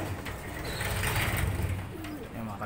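Fancier pigeons in a loft give soft, throaty coos, close and low-pitched, over a faint background hum.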